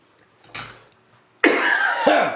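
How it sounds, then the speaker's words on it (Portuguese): A man coughs, first a brief muffled cough, then a pause and a louder, harsher fit of coughing close to the microphone, with a few rapid bursts in succession. "Peço desculpa, eu estou tossindo."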